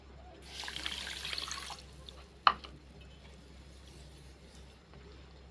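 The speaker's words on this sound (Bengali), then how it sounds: "আমি যতটা চিনি নেব ঠিক ততটা পরিমাণ জল আমি এর মধ্যে অ্যাড করে" Water being poured onto sugar in a pan to make syrup for a bread sweet, heard as a soft trickling pour for a couple of seconds followed by a single sharp clink, over a low steady hum.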